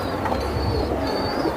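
A pigeon coos in soft, low, throaty pulses, partly buried under constant loud background noise.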